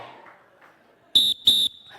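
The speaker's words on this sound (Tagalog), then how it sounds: "Ulitin ko, 1 pito, sabay-sabay tayo. 2 pito, sabay-sabay upo." Two sharp, loud whistle blasts sound in quick succession as a signal at a church gathering, following quiet background murmur.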